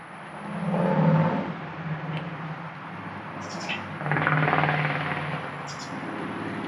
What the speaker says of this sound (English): We've got rush hour traffic, everyone trying to head home.